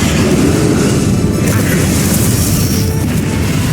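A Descendo slam spell impact during a battle in the video game Hogwarts Legacy: a dense, loud, continuous low booming rumble with crashing texture that barely lets up across the whole stretch.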